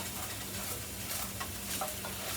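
Mushrooms sizzle and fry in a hot pan while a utensil stirs them through, a continuous crackling hiss with scraping stirs and no talking.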